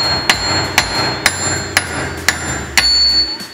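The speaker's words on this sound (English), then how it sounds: "I'm about to whack some studs" A hammer whacks old wheel studs out of a hub, with seven sharp metallic strikes in a steady rhythm about half a second apart, each ringing briefly, heard close up.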